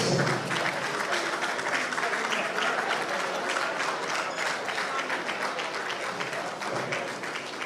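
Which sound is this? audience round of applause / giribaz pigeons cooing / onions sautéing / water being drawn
audience round of applause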